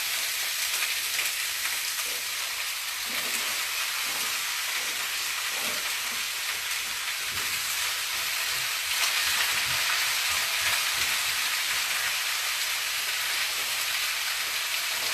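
Courgettes fry in a pan, a steady loud sizzle with occasional soft spatula scrapes and stirring bumps running throughout without talk.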